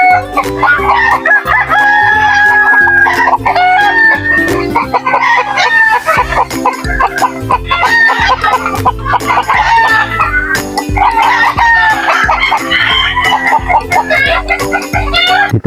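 Hens and roosters at a backyard coop beside a banana grove cluck and cackle in a loud, busy chorus, with crowing rising now and then over steady low background noise throughout.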